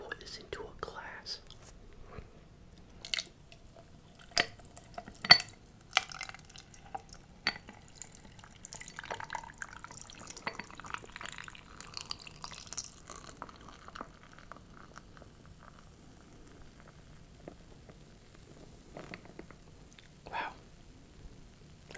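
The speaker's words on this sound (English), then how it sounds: "Let me go get a fresh glass and pour this into a glass." Carbonated strawberry drink poured into a glass with faint fizzing, trickling and dripping, quiet and close, alongside soft whispered talk.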